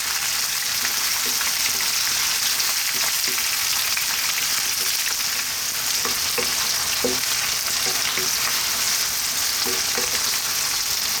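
Onion frying on high heat in a pan for chicken curry, a loud continuous sizzle with intermittent scraping and clicking as it is stirred and moved around, steady for over ten seconds without talk.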